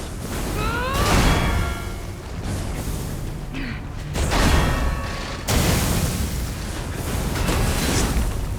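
Boss ground explosion attack in the video game Lies of P, a series of loud booming bursts with whooshing debris rolling through the combat soundscape, several impacts in a row over continuous noise.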